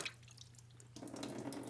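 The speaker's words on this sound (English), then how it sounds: "when the water pump comes out, it's gonna leak coolant" Coolant drains out of a VW Beetle 1.9L water pump into a drain container under the car, a faint trickling and dripping of liquid that swells into a steadier pour partway through, with no talk.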